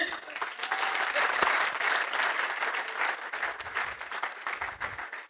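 Sustained applause from the audience at a stand-up comedy show, a dense, steady wash of clapping lasting throughout with no break.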